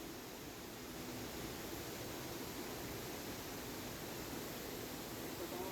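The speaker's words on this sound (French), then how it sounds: "C'est vraiment joli, regardez, avec la cascade là." Steady rushing water from a waterfall in a landscaped enclosure at Beauval Zoo, a continuous broadband wash at moderate level with no breaks, and no voices heard over it.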